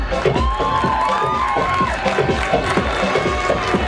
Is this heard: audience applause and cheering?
yes